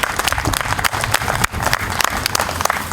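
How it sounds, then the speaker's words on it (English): At the Park of Heroes opening ceremony honouring veterans, the crowd gives a round of applause, with loud, close, crackling claps from many hands that hold strong with a brief dip midway. "Can we have a round of applause for Alphonse?"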